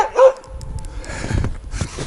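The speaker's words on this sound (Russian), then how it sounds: "Вот, скажем, собаку привез, оставил." A dog near a hunting cabin in the Russian forest gives one short sharp bark or yip, followed by faint rustling and low background noise.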